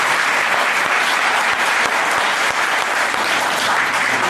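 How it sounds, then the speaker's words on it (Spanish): An audience applauds to welcome Dr. Raúl Ábalos at a talk on metabolic syndrome, steady sustained clapping from a crowd with a few sharper individual claps standing out. "recibamos con un gran aplauso al doctor Raúl Ábalos."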